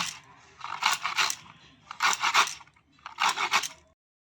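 Carrots are shaved with a carrot cutter in three distinct bursts of rasping, crunchy scraping close by, separated by short pauses, with no talking.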